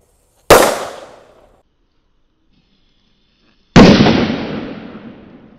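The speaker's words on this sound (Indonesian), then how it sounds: "ini sudah menyala tongkat kera kaget" Two sharp, loud bangs from a stick firework a few seconds apart, each followed by a fading rumble, with no talking.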